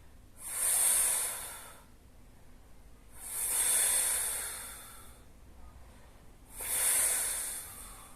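Deep, slow breaths during a Pilates ab workout, three long airy breaths spaced a few seconds apart, each swelling and fading, close and clear with no talk.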